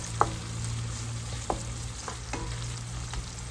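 Onion, chili and curry leaves fry in oil with a soft, steady sizzle over a low hum, punctuated by a few sharp stirring scrapes spaced about a second apart; no voices.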